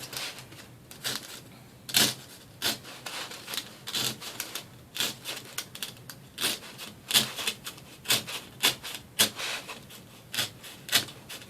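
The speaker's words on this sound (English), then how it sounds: "you're just going to go around here with an X-Acto knife and just cut that circle out" An X-Acto knife cuts a circle out by hand, giving a close run of scratchy clicks, pokes and scraping strokes in an irregular rhythm, with no talking.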